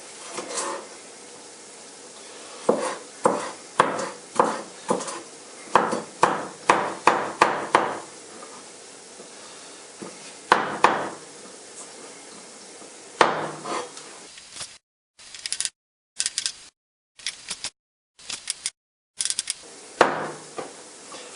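Aubergines chopped into small pieces with a knife on a board, a run of sharp, close, rhythmic knocks in quick bursts, pausing and resuming, then a few scattered chops near the end; no talking.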